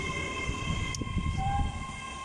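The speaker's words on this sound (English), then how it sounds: "that lovely 387 makes brilliant track joint sounds" A Great Western Railway Class 387 electric train rolls through Didcot Parkway station, its wheels running over track joints with a steady low rumble and faint clicks, plus a sustained whine from the train throughout.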